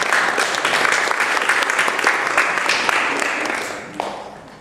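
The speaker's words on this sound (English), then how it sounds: "we will honor him with applause too" Sustained audience applause at a Baltic Sea tour event honoring a cyclist from Germany, a dense wash of many hands clapping close and loud, tapering off near the end.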